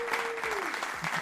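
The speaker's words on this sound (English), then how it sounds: "We definitely gonna give him a round of applause, man." Brief applause from a small audience, a short burst of clapping at moderate level with a faint tonal sweep underneath.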